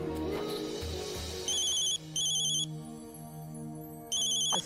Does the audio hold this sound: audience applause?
no